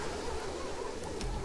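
A dense, steady swarm-like buzz of bees fills the moment in the video game Dying Light 2, loud and unbroken with a brief rustle near the end.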